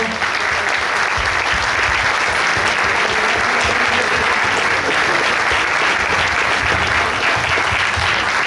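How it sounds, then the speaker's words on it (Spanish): A crowd applauding a guest in a football-stadium setting, steady sustained clapping throughout at an even, loud level. "Por favor, vamos a darle un aplauso"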